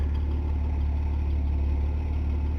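A Ford car engine idles steadily after a spark plug fix, a continuous low rumble close by with no talk over it.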